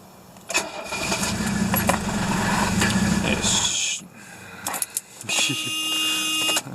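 A cold diesel engine sits idling roughly after a smoky start, one cylinder misfiring so the rumble wavers unevenly, with a brief dip and pickup midway and some background voices.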